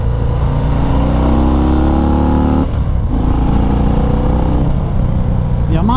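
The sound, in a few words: Harley-Davidson FXDR 114 motorcycle engine while riding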